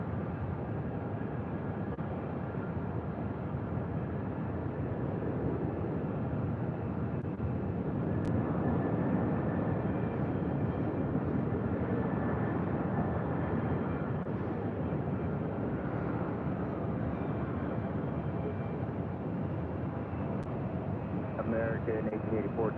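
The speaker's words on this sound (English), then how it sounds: "This is the old America West A320 touching down on runway 8" An America West Airbus A320 touches down on runway 8 at Phoenix, heard as a continuous broad roar of engine and wind noise that stays loud throughout.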